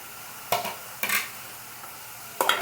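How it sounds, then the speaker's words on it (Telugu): Bitter gourd pieces going into onions frying in a pan, a low faint sizzle broken by three sharp bursts of scraping and clattering as the pieces drop in and get stirred, close by with no voices. "ఈ ఆనియన్స్ వేసుకున్న తర్వాత కాకరకాయ ముక్కలు కూడా వేసుకోవాలి"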